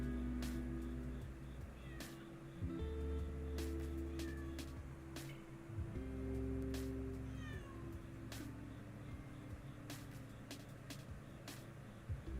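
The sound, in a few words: pet cat meowing in the room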